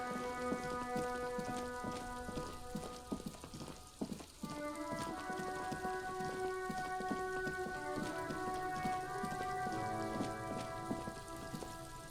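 Steady rain falling on the ground in the video game Disco Elysium, a constant dense patter alone, with sustained tonal music layered over it and no talk.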